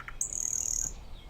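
A nightingale sings out in nature, giving one clear, sustained high whistled note with a short chirp just before it. The call is fairly faint and stands alone, with no talking over it.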